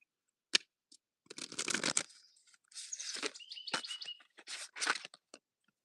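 Tarot cards being shuffled by hand, giving crisp riffling bursts and snaps separated by short pauses, close and fairly quiet with no voices.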